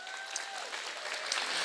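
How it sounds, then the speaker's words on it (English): Brief burst of crowd applause from an audience at a Brisbane pro-life march, honouring Senator Matt Canavan, steady and dense for under two seconds. "So give him a clap for that"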